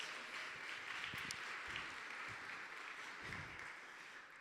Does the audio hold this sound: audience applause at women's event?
yes